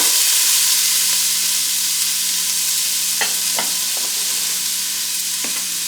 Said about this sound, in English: we're going to go ahead and put in our onions